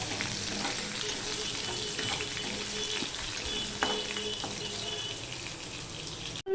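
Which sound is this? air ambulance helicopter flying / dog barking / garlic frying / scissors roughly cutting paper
garlic frying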